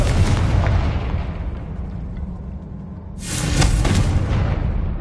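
Two loud Confringo fire-blast spells explode in a Hogwarts video game: a booming burst at the start that fades out, then a second sharp blast a few seconds later with a decaying roar.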